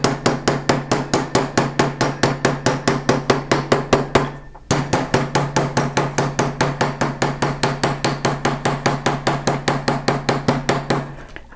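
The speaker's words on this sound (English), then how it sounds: "by turning it over and texturing the other side, I will hammer down some of my original texture" Steady, rapid hammer blows texture a metal sheet for fold forming, close and loud, with a brief pause near the middle before the even rhythm resumes.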